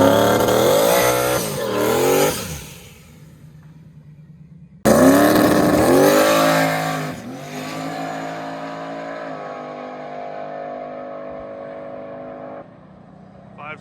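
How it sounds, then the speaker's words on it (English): A Ford drag car in a street car shootout class makes a quarter-mile pass, its engine roaring and revving hard in rising bursts with a sudden loud launch midway, then fading to a steadier drone as it runs off. "So we're going to turn it right around and make a full quarter mile."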